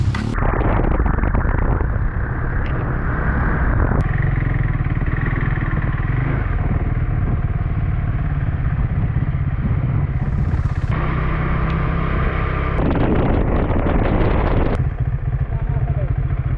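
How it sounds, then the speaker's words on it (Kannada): A motorcycle rumbles loudly and continuously while being ridden, its engine note shifting with throttle changes and a few sharp pops, with wind buffeting close to the rider. "ತಿಂದು ಬೈಕ್ ರೈಡ್ ಮಾಡ್ತಾ ಇದ್ದಾನೆ."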